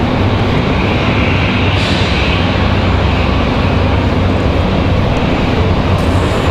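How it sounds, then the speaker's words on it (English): A Boeing 737 MAX 8 in from Chicago taxis slowly toward its gate at Raleigh-Durham airport, a steady, loud, broadband engine rumble that holds constant throughout with no voices. "So that MAX 8 from Chicago finally making its way to the gate."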